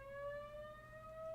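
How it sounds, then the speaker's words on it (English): A tornado siren wails outside, one steady sustained tone slowly rising in pitch, loud and continuous with no voices over it. "There's a siren going off."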